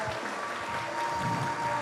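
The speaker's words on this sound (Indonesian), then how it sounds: "Mari kita berikan tepuk tangan buat beliau Bapak Ibu" An audience at a network marketing event claps steadily, a dense patter of many hands at moderate distance, continuing throughout with a faint tone underneath.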